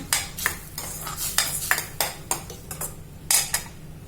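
Spoon stirring tamarind paste into vangi bath in a pan, with a steady run of scraping strokes and light clinks against the metal, close and fairly loud with no talking.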